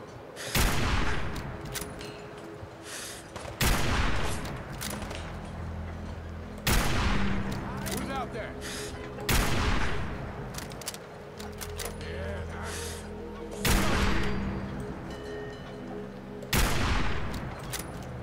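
Gunfire in Fallout 4 comes as about seven sharp, loud shots spaced a few seconds apart, each followed by a lingering echoing tail over a low humming game ambience.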